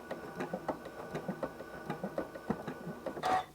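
Home sewing machine quilting a combined free-motion and ruler-quilted piece, running in a steady series of rapid mechanical stitch ticks that end in a louder, denser burst as the stitches are locked.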